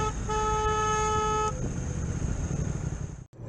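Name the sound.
car horn honking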